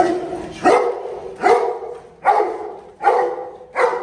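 A Presa Canario barks five times at a steady pace during protection work, each bark loud, close and separated by short pauses, with no talking.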